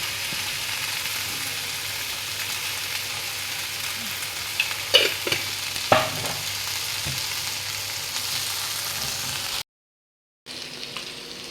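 Corn chaat sautéed in a pan, a steady gentle sizzle with a few clinks and scrapes of stirring, cutting briefly to silence near the end.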